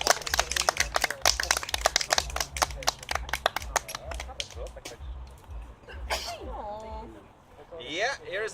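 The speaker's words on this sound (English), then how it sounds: "Let's hear a round of applause." A conference audience claps in a dense burst that thins into scattered claps and dies away, with people speaking briefly as it fades.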